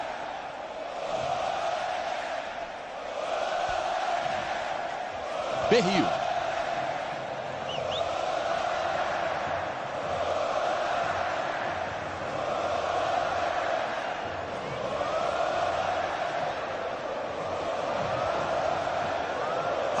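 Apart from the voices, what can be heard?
Flamengo supporters cheering at the Maracanã stadium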